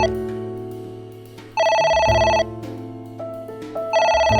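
A telephone ringing inside a video game, electronic ring bursts sounding in repeated bright pulses over a layered synthetic musical background, loud and close with no talk.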